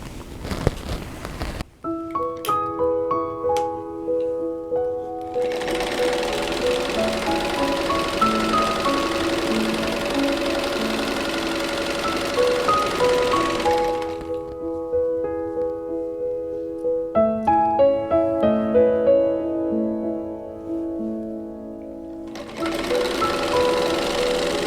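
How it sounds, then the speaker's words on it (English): A sewing machine stitching a quilt block in bursts, whirring motor runs starting and stopping with rhythmic needle chatter, close and clear, with no talk. "we're going to sew here"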